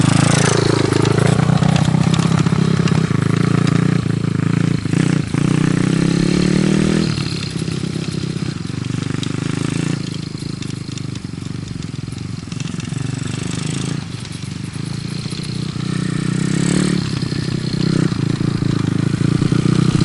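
A dirt bike with a manual clutch is ridden in third gear, its engine loud and close and revving low, with rises and dips in the engine note, scraping and clatter, and no talk.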